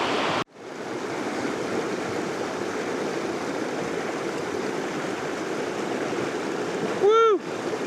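A creek rushes steadily and close by during a wilderness hike crossing in the Yukon, a dense broadband water roar that fills the whole stretch after a sudden start; near the end a short whistle-like tone rises over it.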